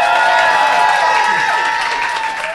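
A live audience at a comedy cabaret show cheers and applauds loudly and continuously, a dense crowd roar that tapers slightly toward the end.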